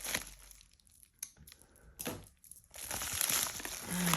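Packaging on an unboxing parcel is cut and torn open, giving faint close crinkling and scraping with short ripping bursts. The rustling grows steadier toward the end.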